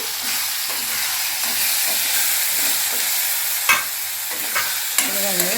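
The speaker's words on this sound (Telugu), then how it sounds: "అల్లం వెల్లుల్లి పేస్ట్ పచ్చి పోయే వరకు కొంచెం ఒక రెండు నిమిషాలు ఇలా వేస్తున్నాము" Ginger garlic paste fries with onion and tomato in a pan for a gram-flour curry, giving a loud, steady sizzle with occasional scraping stirs near the end.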